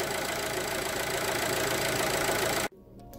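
A Fiat 1.4 T-Jet petrol engine in a Grande Punto, freshly fitted with a new timing belt, idles with a steady close rumble and even ticking before cutting abruptly to near silence.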